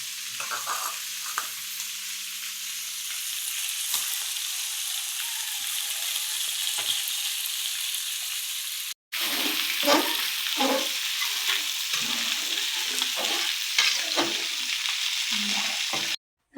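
Tamarind water hits a pan of masala for a sepili fish curry, giving a steady sizzling hiss that breaks off briefly and returns louder, with bubbling and spattering close by.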